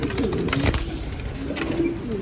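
Pigeons at a loft coo softly and repeatedly at close range as they are let out, with low throaty calls rising and falling over light background noise.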